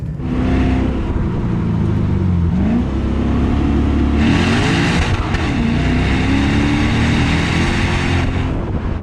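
A 2020 Lexus RC F Track Edition's naturally aspirated V8 revs hard and high, its pitch climbing and dropping through gear changes, loud and close with no talking.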